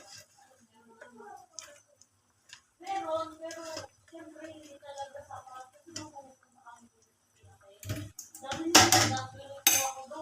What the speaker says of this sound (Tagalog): Ayan, haluin lang natin guys.